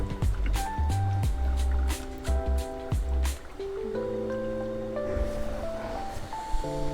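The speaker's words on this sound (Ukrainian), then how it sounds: "І відкриваємо кран промивки" Water rushes through the opened flush valve of a G60 water filter unit, a steady liquid flow under an intermittent tonal beeping and clicking.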